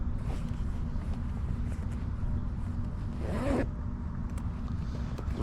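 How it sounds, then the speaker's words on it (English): A zipper on a small pouch is pulled open in one quick, close rasp about midway through, set against a steady low background hum. "It's rare that he used that zipper or that pouch."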